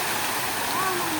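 Water runs steadily from a water feature at Dharahara tower in Kathmandu, a continuous rushing, splashing wash close by.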